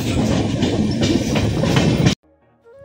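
Passenger train rolling along rails with a steady loud rumble and rhythmic clatter for about two seconds, then cutting off abruptly to near silence with faint tones.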